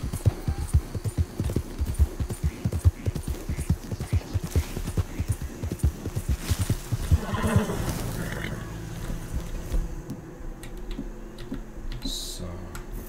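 A horse in the video game Red Dead Redemption 2 trots with rapid, close hoof clip-clops, then slows and lets out a neigh, with game ambience continuing afterward.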